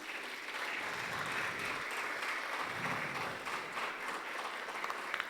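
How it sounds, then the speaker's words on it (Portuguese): A church congregation applauds steadily, dense clapping filling the space without pause from start to finish. "Vamos aplaudir o Senhor."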